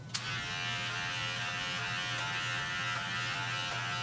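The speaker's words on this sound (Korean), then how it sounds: "클리퍼에 3mm 껴서 올려치기를 하시면은 조금 더 자연스럽게 연결을 하실 수 있어요" An electric hair clipper fitted with a 3 mm guard buzzes steadily and close during a men's two-block haircut, a constant motorized hum with a small click at the start and no talking.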